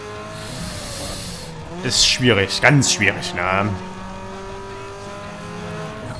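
A car driving in the street-racing game Need for Speed Underground 2: a steady engine drone runs throughout, with brief revving and squealing bursts in the middle while someone speaks over it.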